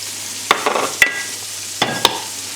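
Green beans sauté in a pan with butter and fresh thyme, a soft, low sizzle broken by a few sharp clacks and scrapes as the pan is swirled.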